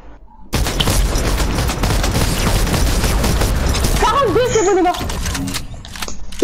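Burst of gunfire in a Gulag 2v2 shooter match, a sudden sustained rattle of rapid shots lasting several seconds, with players talking over it near the end.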